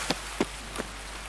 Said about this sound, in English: because of this goddamn rain, I can't even hear myself